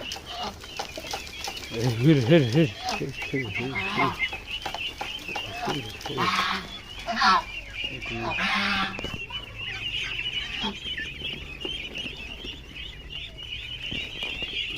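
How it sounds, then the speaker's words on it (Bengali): Chinese ducklings in a village duck-rearing yard give a close, busy mix of quacks, cheeps and wing flaps, loudest early on, with a person talking over them. "দেখতে পাচ্ছেন এগুলো হচ্ছে চীনা হাঁসের বাচ্চা"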